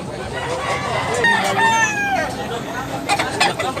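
Roosters crow at a chicken market in Tabunok, Cebu, with several drawn-out calls overlapping and some clucking among them. A crowd chatters steadily underneath.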